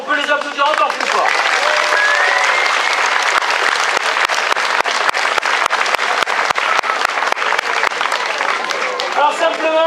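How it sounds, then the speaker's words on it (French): Loud, sustained applause from a crowd at a medieval festival in Volonne, dense clapping lasting many seconds, with voices audible briefly at the start and end. "On peut les applaudir encore plus fort."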